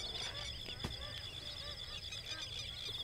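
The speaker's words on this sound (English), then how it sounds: "we've got magpie geese coming over on the right-hand side here, Ramsey." Magpie geese fly low overhead in the Australian wetlands, honking in a dense overlapping chorus of many birds, steady and fairly loud over a constant background hiss.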